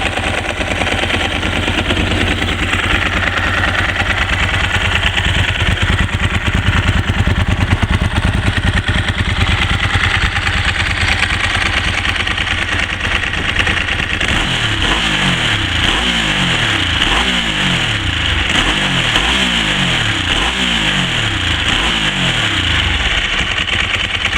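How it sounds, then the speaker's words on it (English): A 999 superbike engine idles loud and close with a steady mechanical clatter. Its tone shifts as the clutch is pulled in and released, and a rhythmic pulsing pattern emerges in the later half. "you can probably hear the change in tone there when the clutch is pulled in and out"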